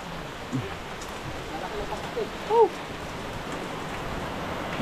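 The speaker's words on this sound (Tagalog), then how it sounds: "Hindi lang yung ambon. Ulan na talaga yan." Heavy rain of large drops falls outdoors as a steady, dense hiss that fills the whole stretch, with a brief louder thump partway through.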